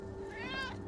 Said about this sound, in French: C'est le chat de la maison.